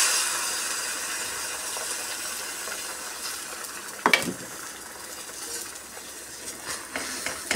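Beaten egg mixed with onion, green chili and salt poured into a hot frying pan, giving a steady soft hiss and sizzle with a sharp, brief burst partway through and small clinks after.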